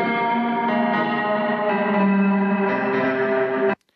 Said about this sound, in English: So you can hear there is that big reverb in there.